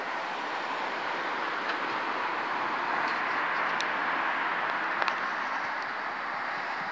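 Great Western Railway class 165 diesel unit bound for Reading passing a level crossing, a steady broadband rumble of the train running past close by throughout, with faint squeal and clatter on top.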